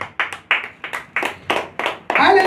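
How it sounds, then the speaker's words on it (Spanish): Congregation clapping in a church, with bursts of handclaps breaking out in several short waves, then settling into a sustained round of applause at the end. "Yo quiero que le dé un aplauso a Cristo"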